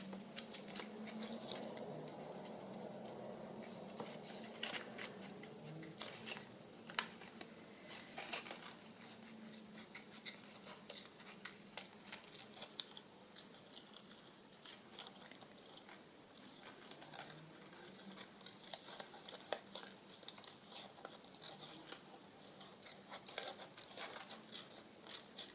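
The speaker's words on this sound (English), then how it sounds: "get my little scissors, just do that little bit" Small scissors snipping paper for a journaling spread, soft close crisp cuts in uneven bursts with faint rustling between them, quiet and with no talk.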